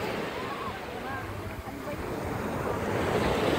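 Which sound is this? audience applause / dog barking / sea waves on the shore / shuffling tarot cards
sea waves on the shore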